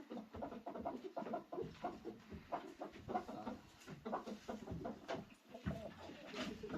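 A heavy rooster, 4.7 kg and hatched in March, makes repeated faint clucking calls in a steady run of short bursts.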